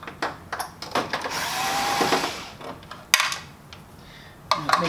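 A power driver removes screws from a Kyocera 3501i/5501i copier during a drum and developing unit swap, a close whirring burst mixed with metallic clicks and handling knocks.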